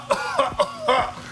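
A person coughs in a quick burst of three or four close, dry coughs during a card game.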